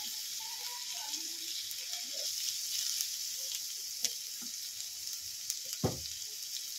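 Onion and capsicum sizzle quietly in a pan with a low, even hiss. A few sharp clicks of a utensil against the pan cut through, and soft vocal sounds come in near the start.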